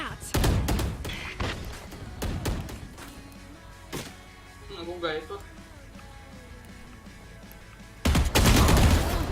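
Bursts of video game gunfire, rapid volleys of loud shots near the start and again at the end, with quieter stretches between where a person talks.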